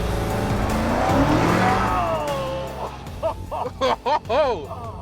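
A BMW X7 M60i launches hard in sport plus mode: a loud, rising engine roar with some tyre squeal fills the first seconds and then fades, and voices talk and exclaim in short bursts near the end.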